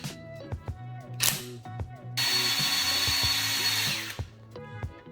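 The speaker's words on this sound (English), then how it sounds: "let's get the drill in the reamer and we'll see how it goes" A power drill fitted with a reamer bores out a foam fishing-rod grip, starting with short clicks and brief whirs, then running in a sustained loud whine for about two seconds before more clicking and handling.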